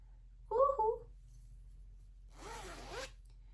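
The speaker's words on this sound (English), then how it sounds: "So it is a zipper bag." A zipper pulled along a handmade fabric project bag sewn from Halloween-style fabric, one brief sliding run heard close and alone after a short vocal sound.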